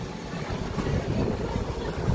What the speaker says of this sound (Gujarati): પવન જોરદાર આવે છે અહીંયા